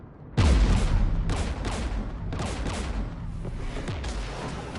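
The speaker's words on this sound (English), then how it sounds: "We're taking fire." Gunfire in the Mass Effect video game on PS4: a loud opening blast followed by repeated bursts and booming volleys that carry steadily through the whole stretch, with no talking.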